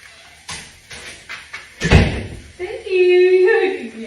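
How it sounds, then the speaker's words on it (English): A door is pushed shut with a solid thump near the middle, preceded by lighter knocks and followed by a dog's whine and nearby voices. "Can you please shut that door?"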